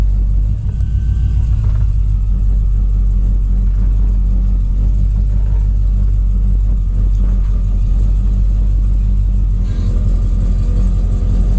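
A 1968 Dodge Charger with a swapped-in Hellcat engine idles close by, a loud, steady, deep rumble that holds without a break and carries no talk.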